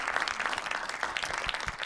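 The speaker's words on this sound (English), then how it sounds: "Thank you for applauding." Studio audience at a podcast interview taping applauds in a steady, dense patter of many hands, moderately loud and continuous across the whole moment, with no talking over it.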